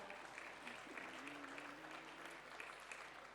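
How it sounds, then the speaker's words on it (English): Faint, distant audience clapping at a talk on de-extinction, steady and thin, with a voice murmuring under it. "I don't know if you can hear the clapping"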